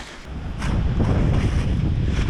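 Steady wind roars and buffets the microphone outdoors on a clear day's hike, a loud continuous rush that swells after a brief quieter start, with no voices.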